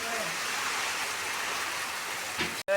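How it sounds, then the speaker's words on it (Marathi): Heavy rain pours steadily in a strong windstorm, a dense, continuous hiss close by, ending with a brief thump and cut near the end; no clear speech. "वादळ बघ कसलं सुटलंय मम्मी."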